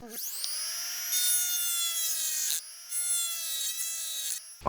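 A power grinder cuts into the steel body of a kei camper van, a loud continuous high-pitched whine with shifting tone and short dips as the tool lifts off the metal, no voices.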